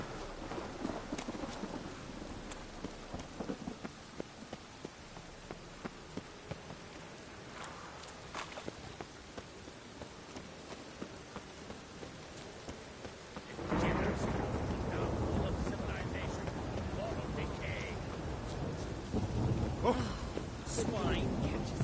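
Rain pours in The Witcher, a soft steady wash that swells abruptly halfway through into a heavier downpour with low thunder rumbling beneath, while someone talks over the storm.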